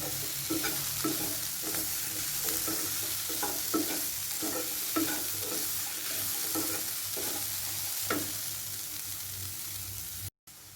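Butter beans fry in a pan, a steady background sizzle broken by repeated stirring scrapes at an even rhythm, close and moderately loud with no talk.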